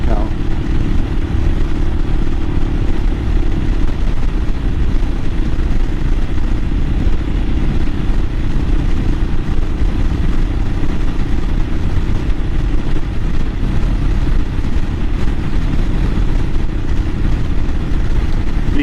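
A 2022 Royal Enfield Himalayan motorcycle rides along with a steady, low engine drone and heavy wind rumble, constant and close throughout with no clear breaks.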